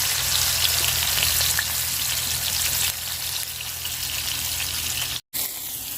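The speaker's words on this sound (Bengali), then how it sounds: "আমার ফাতিলের তেলও গরম হয়ে গেছে এখন মাছ ভাজা নিব" Pond fish, coated in turmeric and salt, frying in hot oil in a pan, a dense, continuous crackling sizzle that eases slightly midway and cuts out briefly near the end.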